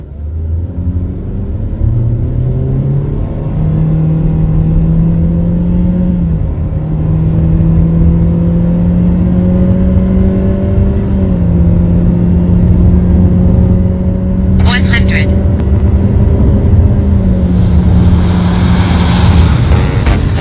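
Loud, close engine drone of a Mitsubishi XFORCE accelerating hard on a race circuit with two people aboard, revs climbing through several gear changes, then road rush and wind noise building toward the end.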